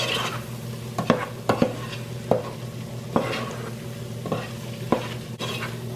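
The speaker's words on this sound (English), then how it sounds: "Now I'm going to add 1/3 cup flour, all-purpose flour. And this is to make a roux." A roux of melted butter and all-purpose flour cooks in a pot, giving a gentle steady sizzle with repeated spoon scrapes and light taps against the pan, moderately close and unaccompanied by voices.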